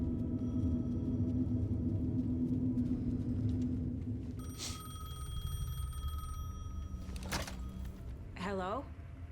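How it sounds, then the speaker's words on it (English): A payphone rings in the Alan Wake 2 video game, with a few sharp metallic bell bursts rising over a low rumbling ambience, fairly close and distinct. "The payphone was ringing."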